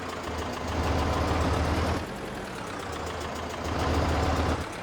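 A tractor engine in Farming Simulator 22 idles with a low, steady drone, rising briefly in two swells, and no one talks over it.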